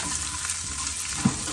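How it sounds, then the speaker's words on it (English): Mushrooms sautéing in a pan give a soft, steady sizzle with a faint bump of utensil movement near the end, brief and fairly quiet. "We're just going to kind of saute this up just a little bit."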